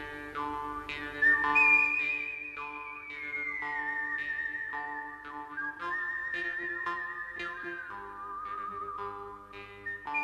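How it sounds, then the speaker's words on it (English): A person whistles a melodic tune up close, holding long sustained notes that glide between pitches, set against soft background instrumental music. "this is some like god tier whistling"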